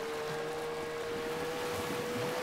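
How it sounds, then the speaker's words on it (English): Aquamarine engine sound from Rocket League, a steady bubbling hum like an outboard boat motor, running continuously and evenly throughout with no talking. "it sounds like random bubbles and also like the bubbling of an outboard like boat motor"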